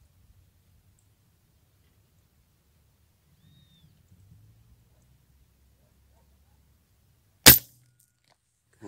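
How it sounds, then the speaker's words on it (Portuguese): After long near-silence with faint rustling, one sharp air rifle shot cracks out, followed by a quieter click at the end. "eu errei aquele tiro"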